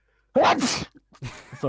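A single loud, close sneeze bursts out during an indoor interview, followed by a brief apology and a few spoken words.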